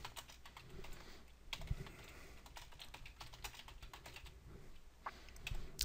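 Someone types a command on a computer keyboard while setting up a Raspberry Pi web server, a quiet run of irregular, rapid key clicks with a few heavier presses, close by and without speech.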